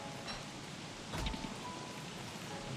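Crystal rain falls in Don't Starve Together as a steady, even hiss of rain, with a brief low thump partway through and no talking.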